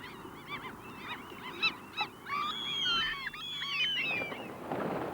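A flock of geese honks and calls, starting with scattered honks and building into overlapping cries that sound moderately near, with a breathy rush toward the end.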